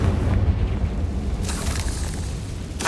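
Confringo blasting curse detonating in Hogwarts Legacy, a loud, dense rumbling blast that fills the whole clip, with a sharper crackling burst about halfway through and another near the end.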